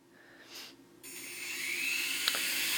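An S107 RC helicopter spins its rotors indoors, a thin whine that starts faintly, then rises into a steady, close, high-pitched buzz that climbs in pitch and holds, with a brief click near the end.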